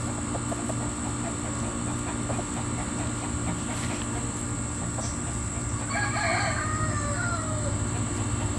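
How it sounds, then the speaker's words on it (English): Chickens cluck softly in the background over steady outdoor noise, with a brief higher call toward the end. "We have chickens following us."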